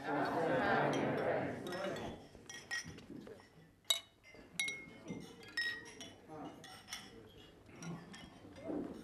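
Glasses clink repeatedly in a scattered flurry of bright chimes for a toast at a wedding while voices murmur in a room, after a moment of louder talking.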